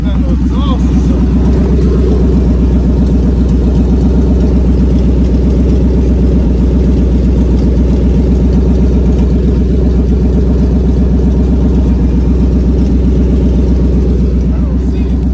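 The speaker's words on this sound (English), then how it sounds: "That motor is smooth. That thing is running smooth, boy." Engine of a 1999 Chevy Suburban or 2007 Chrysler 300C idling smoothly up close, a loud, steady low rumble with an even rhythm and no break for the whole stretch.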